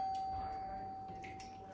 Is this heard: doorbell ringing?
yes